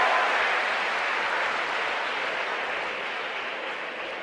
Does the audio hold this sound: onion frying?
no